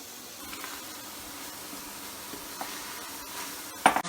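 Onions sauteing in a dry pan with no butter or oil give a soft, steady sizzle and faint stirring, with a small clatter near the end.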